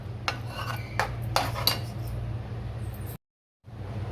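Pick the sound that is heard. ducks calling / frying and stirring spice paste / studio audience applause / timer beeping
frying and stirring spice paste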